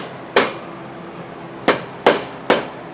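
A hammer strikes the bumper mount and bolts of a 1957 Volkswagen Beetle: four sharp, close metallic hits with a ringing decay, one alone and then three in quicker succession, with no talking.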